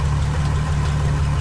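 Rebuilt 800 HP Ferrari 812 Superfast V12 engine running steadily after installation in the wrecked car, a loud, constant low rumble with even pulsing and no speech.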